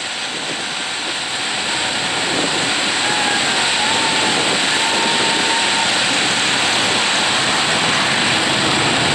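Eight-cylinder enduro race cars weave to warm their DOT tires at Riverhead Raceway, New York, their engines a steady, loud, continuous roar with no break or talk.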